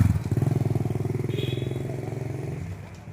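A small motorbike passes through a village, its engine puttering loudly and close in a steady pulsing rhythm that gradually fades as it moves away.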